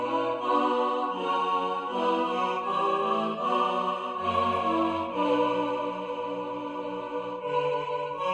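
The first phrase of a four-voice Bach-style chorale plays as sustained, clearly voiced chords on a keyboard-like instrument. The chords change at a steady pace with a moving bass line and no talk.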